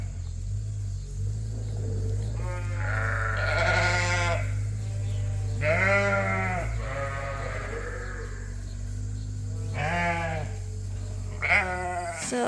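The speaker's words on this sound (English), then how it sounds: "So these are the next group of breeding ewes here." Breeding ewes bleat repeatedly in a pen, with several drawn-out, wavering calls from different sheep over a constant low engine-like rumble.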